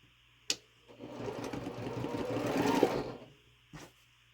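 A sewing machine stitches a quilt star block in one steady run of about two seconds, whirring up and slowing, with light clicks just before and after.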